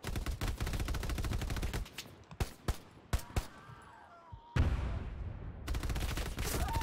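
Machine gun fire in the Hell Let Loose video game, sustained rapid bursts at start and end with a few sharp single shots and distant rumble between, loud and unbroken by talk.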